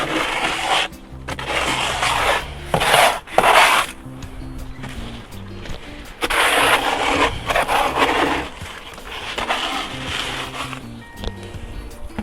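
A cement planter mould is scraped by hand in repeated rough, gritty strokes. The close scraping comes in bursts separated by short pauses.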